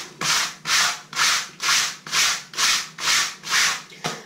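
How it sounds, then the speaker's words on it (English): A brush scrubs a stain on soaked colored fabric by hand in eight even back-and-forth strokes, each a loud, close, rasping swish with brief pauses between. "You want to find a brush to scrub it."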